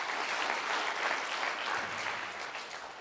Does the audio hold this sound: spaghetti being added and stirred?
no